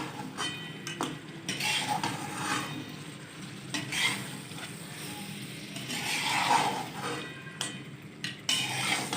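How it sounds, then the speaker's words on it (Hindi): Butter karahi gets stirred in a pan with a metal spoon, scraping and clinking in an irregular rhythm over a soft steady sizzle, close up. "अच्छी तरह से मिक्स कर लेंगे।"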